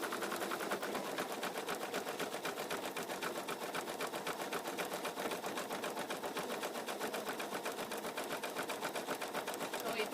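A home embroidery machine stitches a floppy-eared bunny stuffie design, its needle hammering in a fast, even, rapid-fire rhythm that runs throughout, up close and loud.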